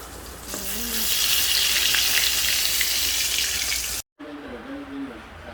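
Flour-coated milkfish (bangus) frying in hot oil, a loud, close, continuous sizzle that breaks off briefly and resumes more quietly; a voice talks faintly under it.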